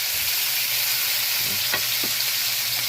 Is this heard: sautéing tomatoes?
yes